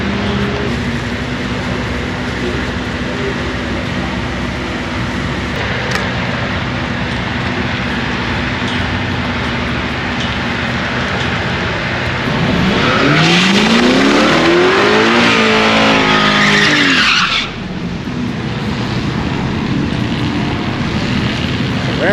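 An FPV 335GT drag car launches and makes its pass in winter without an intercooler, engine note rising loudly over about five seconds through the gears before cutting off, after a stretch of steady background noise.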